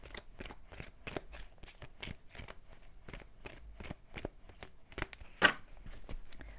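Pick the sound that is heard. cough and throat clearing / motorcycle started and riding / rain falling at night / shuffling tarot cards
shuffling tarot cards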